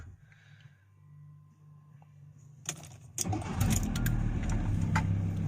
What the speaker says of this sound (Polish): włączę się, odpalę silnik.